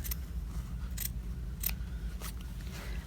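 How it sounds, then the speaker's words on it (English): Scissors cutting a square out of fabric for a sock and shawl project bag, with about four crisp snipping strokes spaced roughly half a second apart, close up over a low steady hum. "And I just cut out this square."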